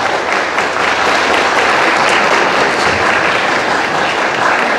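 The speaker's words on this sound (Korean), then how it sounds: "큰 박수 부탁드립니다." Wedding guests applaud together in a loud, steady, dense round of clapping that fills the whole stretch at an even level, with no voices over it.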